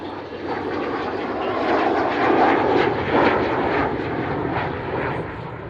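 An Avro Vulcan bomber roars past at the Royal International Air Tattoo air show, a loud, broad jet rumble that swells in the middle and stays strong throughout.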